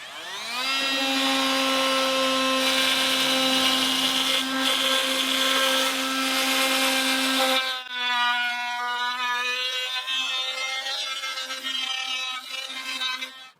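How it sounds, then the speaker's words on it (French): A jigsaw cuts wood, a loud whining buzz that holds steady for several seconds, then drops and wavers as the blade slows and strains before stopping. "On est sur une découpe à la scie sauteuse."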